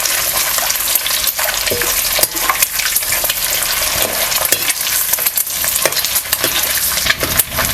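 Eggs stir-fried with turmeric powder and homemade masala for egg biryani give off a loud, steady sizzle close by, broken by repeated sharp scrapes and clacks of stirring throughout.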